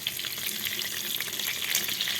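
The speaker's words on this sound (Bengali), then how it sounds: "মাছগুলো আমি উল্টিয়ে দিচ্ছি" Katla fish pieces fry in hot oil in a pan while being flipped, giving a loud, dense, continuous sizzle with crackling spatter throughout and no talking.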